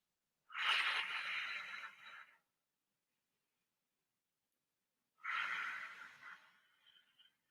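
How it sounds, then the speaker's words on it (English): Two long, soft breaths, each about two seconds, separated by a few seconds of silence, as part of a guided box breathing exercise for kids; close and quiet, with no talking. "we're gonna do our box breath"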